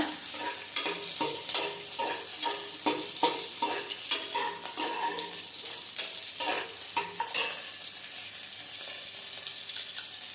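Four or five green chilies sizzle in hot oil in a pan while cooking mutton thalsa, a steady frying hiss broken by repeated stirring scrapes, close and fairly quiet, with no talking.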